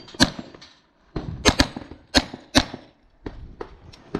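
BRN-9 blaster fired rapidly at targets, a series of sharp, close gunshot cracks in irregular bursts of two or three with brief gaps between.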